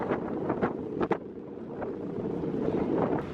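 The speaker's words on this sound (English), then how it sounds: "So it's very windy" Steady wind buffets the microphone with a constant low rumble and a few gusty thumps, with no voices, at Thingvellir National Park, Iceland.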